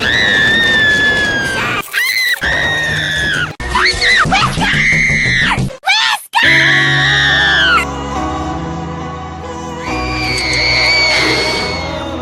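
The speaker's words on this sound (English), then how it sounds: "She also screams a lot." Cartoon character screaming, a series of loud, shrill, sustained shrieks broken by brief cuts, with some yelling and other voices mixed in between bursts.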